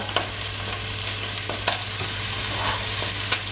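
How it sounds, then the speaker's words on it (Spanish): Chicken browns in a pot with dry garlic, a steady close sizzle and crackle of frying running throughout, with a few scraping stirs cutting in, no voices. "Voy a dorar el pollo y en un momento ni siquiera voy a sacar el pollo de la cacerola"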